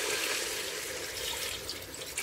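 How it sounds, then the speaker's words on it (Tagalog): Water pouring steadily from a tap into a cooking pot for an Irish stew, a continuous close splashing rush with slight gurgles near the end, no voices over it. "At maglalagay ako dito ng tubig."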